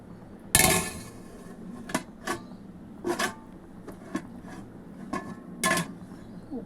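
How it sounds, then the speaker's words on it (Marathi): A metal lid clanks down onto a pot of chole (chickpea curry simmering with chole masala), followed by several lighter metallic clinks and taps spaced over a few seconds in a quiet kitchen. "झाकण ठेवून देऊया"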